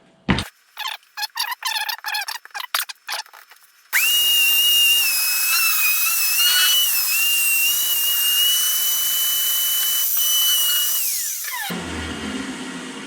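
Wood router fitted to a JessEm Rout-R-Lift 2 in a guitar shop, preceded by a string of quick clicks and taps, then spinning up to a loud, steady high-pitched whine for about seven seconds before winding down abruptly.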